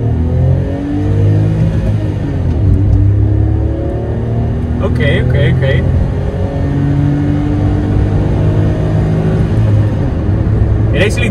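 A SEAT Mii 1.0 three-cylinder 60 hp hatchback accelerates hard from standstill toward 100 km/h, its engine droning loudly from inside the cabin with rising pitch through the gears, and a voice speaks briefly over it.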